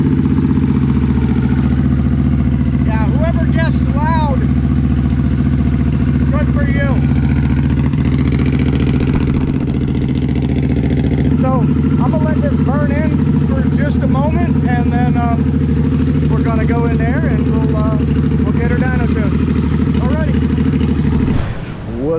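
A 2024 Harley-Davidson Nightster with an open TBR exhaust and no baffle idles loudly and steadily nearby in a deep, continuous throb, while people talk over it.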